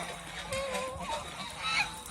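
A white goose honks several times in quick, nasal calls, fairly close, with a louder honk near the end and faint background noise.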